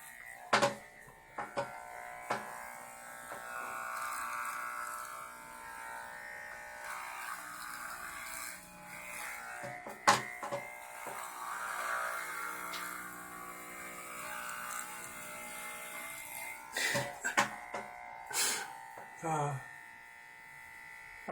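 Electric hair clippers buzzing hair short, a thin close buzz rising and falling as the blades pass over the head, with a few sharp handling knocks and brief gaps.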